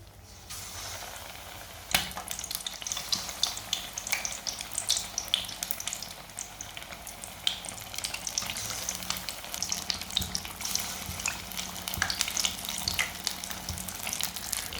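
Egg pakoras coated in gram flour frying in hot oil, a steady close crackling sizzle with dense popping bursts running throughout, no voices.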